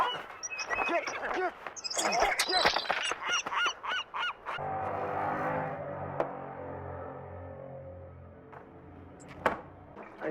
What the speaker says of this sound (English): Look, this seagull again.